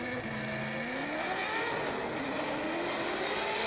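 Drift cars launch at the HGK Drift Challenge, engines screaming with rising and shifting revs that overlap, heard from a distance over a broad crowd and track wash.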